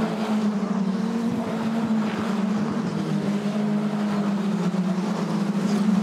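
Racing cars at the Thruxton circuit during a 2021 race give a loud, continuous engine drone with a steady low tone, close and unbroken, with no voices.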